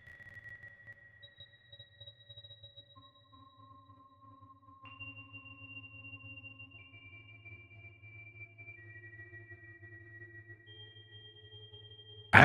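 Sparse synthesizer tones drift and shimmer through a granular effect set fully wet, sustained pitches sliding between notes over a low pulsing drone.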